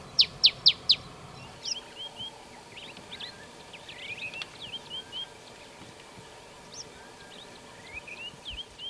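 A wild bird perched close to a safari vehicle in Addo Elephant National Park calls repeatedly, opening with a few sharp high notes, then a varied string of near, clear chirps and tweets over quiet background.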